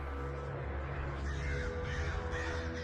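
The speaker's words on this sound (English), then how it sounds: "Crows will fly by, distracting you" Crows caw repeatedly in a video game, harsh calls standing out fairly close over a steady ambient background, with no talk.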